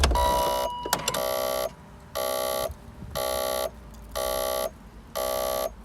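Headlights-left-on warning chime in a BMW Z8, a harsh buzzing electronic tone pulsing in repeated half-second bursts with short gaps, preceded by a few clicks as the car is switched off.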